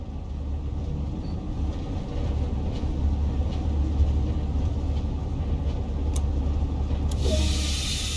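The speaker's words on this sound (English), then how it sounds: "time to bring the locomotive to a gentle stop" A BR Class 33 locomotive in Train Sim World 2 brakes to a stop with a steady low rumble and wheel noise, ending in a sharp hiss of released air.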